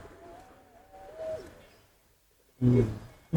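A large pigeon gives low, soft coos, with a faint call early on, then two louder, close, deep coos near the end.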